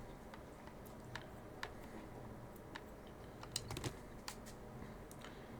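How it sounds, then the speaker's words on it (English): A small chihuahua's toenails click on a hard floor, faint irregular light ticks at close range over a soft background hiss. "My cousin's little chihuahua just walked in. This little clickety clackety toes."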